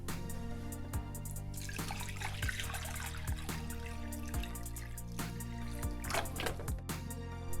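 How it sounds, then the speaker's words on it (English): Cold filtered water pours through a canning funnel into a kombucha fermentation vessel, a continuous trickling splash with scattered drips and gurgles, close and moderately quiet, with no talk. "we're gonna put 9 cups of cold, filtered water into our fermentation vessel"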